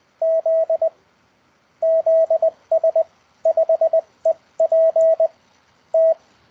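Short steady tone beeps in groups of dots and dashes, Morse code call signs keyed at an even pace with brief pauses between letters.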